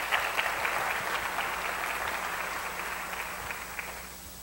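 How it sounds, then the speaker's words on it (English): A convocation audience gives a round of applause, a broad, even wash of clapping hands that holds steady and slowly fades, heard alone without speech. "I think they deserve a round of applause."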